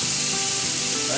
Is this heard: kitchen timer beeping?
no